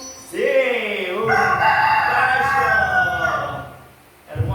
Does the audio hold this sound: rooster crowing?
yes